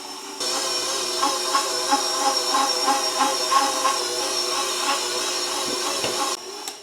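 A stand mixer kneading pizza dough from bread flour with a little olive oil, a loud steady motor whir with a rhythmic thumping beat from the dough hook that runs continuously before cutting off.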